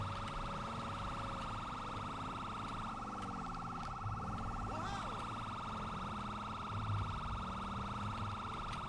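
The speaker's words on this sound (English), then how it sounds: "My siren is on" Police car siren in the LSPDFR police game, a steady electronic wail held under the sound of a driving car, with a short warble partway through and faint voices in the background.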